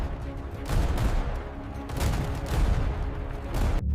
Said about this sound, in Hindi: चीखें और गोलियों की आवाजें आपस में घुल मिल गई थी।